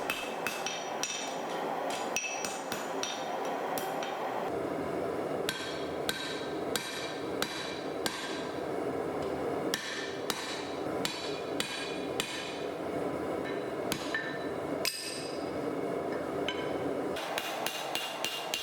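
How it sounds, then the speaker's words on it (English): A steel ring is hammered and drifted into the hardy hole of a farrier's anvil while forging a Damascus ring, giving dense, loud, rapid metallic blows that continue steadily throughout with short pauses. "I'm drifting this into the hole in my anvil."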